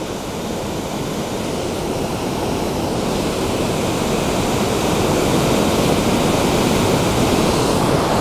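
Aasleagh Falls pouring over rocks, a loud, steady broadband roar of rushing water that fills the whole stretch without pause, close and unbroken, no voices.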